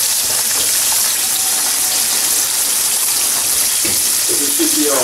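Snapper fries in a pan with a loud, steady broadband sizzle throughout, close and dense, with a brief clink near the end.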